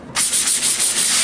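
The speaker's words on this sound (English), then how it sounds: "I'm just going to give it one last sanding job, just to make sure everything's nice and clean" Formica laminate table pieces being sanded before gluing, a close, steady abrasive rubbing that starts abruptly and continues with a gentle back-and-forth pulsing rhythm, alone and fairly loud.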